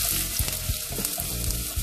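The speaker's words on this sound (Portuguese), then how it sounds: "deixa ela refogar." Onion sautés in olive oil as the base for a mushroom risotto, a loud, continuous sizzle close up with several soft knocks and stirs of a utensil against the pan.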